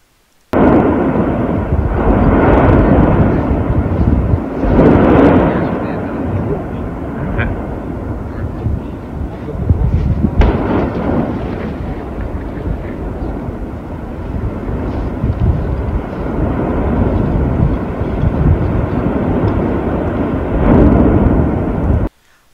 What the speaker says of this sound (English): like that noise from the volcano, and also these shock waves